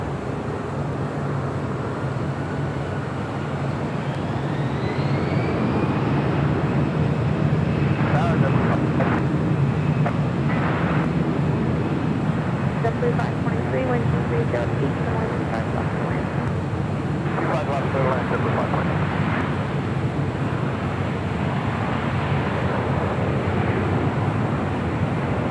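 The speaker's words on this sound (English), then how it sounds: "That was American Airlines flight 1966 coming up from Charlotte, and then A321neo" An American Airlines A321neo arriving at LAX from Charlotte produces a steady broadband jet rumble with a rising whine, heard under intermittent talk and wind noise.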